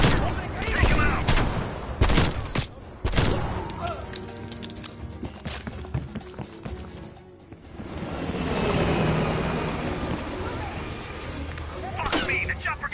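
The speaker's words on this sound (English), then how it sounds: "Fuck me! The chopper got away!" Helicopter escaping amid gunfire in Call of Duty Cold War: bursts of rapid shots and heavy impacts up front, then a rising rotor whine and engine roar swelling mid-clip, with scattered shots near the end.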